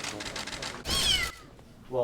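A caged Bengal cat meows inside a parliamentary audit hall. Two short, plaintive meows stand out over background talking and room noise.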